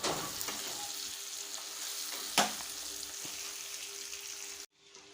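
Stuffed brinjals (eggplants) fry in oil with a constant close sizzle. A single knock of a utensil lands midway, and the sound cuts off abruptly near the end.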